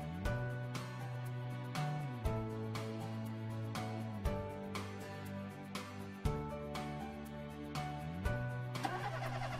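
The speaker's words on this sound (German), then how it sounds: "Wir starten den Motor." A cartoon amphibious vehicle's engine cranks and turns over repeatedly, several starter bursts in a row, each ending in a brief mechanical thump, close and clear.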